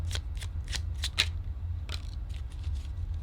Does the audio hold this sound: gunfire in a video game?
no